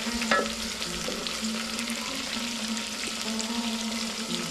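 Onions fry in a pan until browned, giving a continuous close crackling sizzle with light stirring throughout.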